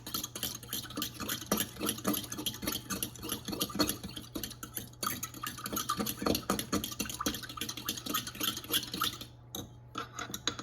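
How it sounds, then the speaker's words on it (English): Teriyaki sauce with cornstarch stirred briskly in a dish, a continuous rapid scraping and clinking of utensil against the container, close and busy, with a steady low hum underneath. "now I'm going to mix it so the cornstarch is mixed evenly into the sauce"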